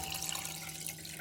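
Water splashes steadily into a pot of black rice in a kitchen, a short, continuous pouring sound heard close up with no talking.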